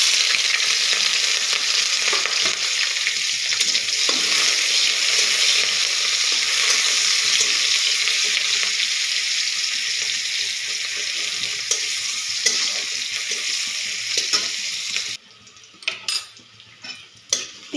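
Chopped onion and green chili sizzle hard in hot oil in a pan for a bean and potato bhaji, a dense continuous fry that gives way near the end to quieter clinks of a utensil against the pan.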